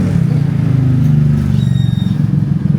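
A Honda X-ADV scooter sits on a stand with its rear wheel spinning, giving a steady, close engine drone with clattering mechanical texture and a faint high whine partway through.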